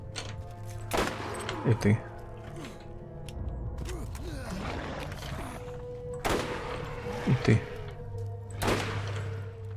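Gunfire in the video game Borderlands, sharp shots cracking out at intervals among mechanical clanks and creaks, with someone speaking briefly over the action.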